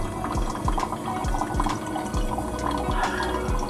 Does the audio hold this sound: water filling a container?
yes